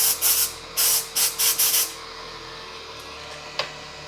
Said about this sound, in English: I have some brake cleaner.